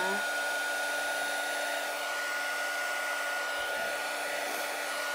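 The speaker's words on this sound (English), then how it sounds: "And this gets super hot, like 400 degrees kind of hot, the heat gun." Heat gun blowing hot air at close range while drying watercolor paint on a paper flower craft, a loud, steady whooshing roar with a fixed whine, unbroken throughout.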